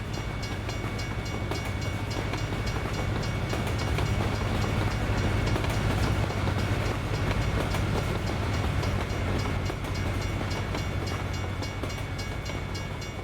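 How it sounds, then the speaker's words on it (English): A train rumbles past a level crossing in a trucking game, a steady loud roll with rhythmic clatter of wagons throughout, no voices. "I think this is like the 4th level crossing train that I've seen this evening."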